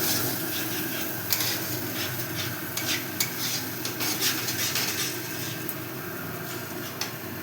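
Masala paste of green chilli and cashew is sautéed and stirred in a pan for a wedding-style yogurt catla fish curry, giving a dense, continuous close sizzle with scattered scrapes and taps from the spoon.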